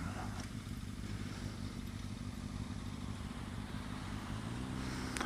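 A motorcycle rides through traffic with a steady close engine drone and rumble that holds throughout.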